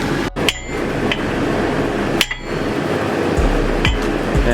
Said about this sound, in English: just go as much as you can, right? Well, right there is all I can go, and then hit this with a hammer